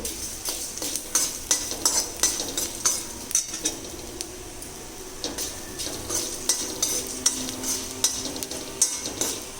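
Cumin and urad dal fry in oil for tomato chutney, with a steady soft sizzle under frequent spoon clinks and scrapes against the pan, close up and without speech.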